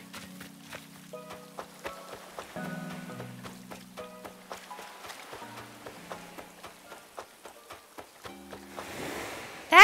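Rain falls on an island in the video game Animal Crossing New Horizons, a soft steady patter running under game music with tonal chimes and light footstep ticks, ending in a louder burst.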